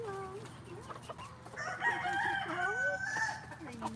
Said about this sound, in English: enjoy the chickens